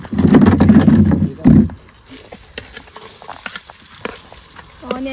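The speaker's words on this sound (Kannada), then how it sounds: "ಹಾಕ್ತಾ ಇದೀವಿ. ಎರಡು ಈರುಳ್ಳಿ" Onions tossed into a hot cooking pan give a loud, close sizzle for about a second and a half, then settle into quieter crackling and scattered stirring clinks.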